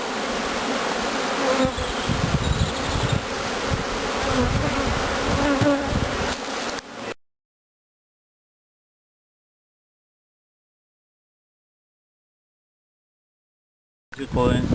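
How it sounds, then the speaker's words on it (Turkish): Dense, steady buzzing of many honeybees in a queen-rearing starter colony, continuous for several seconds before cutting to silence, then resuming briefly at the end. "Gıcık gıcık arı."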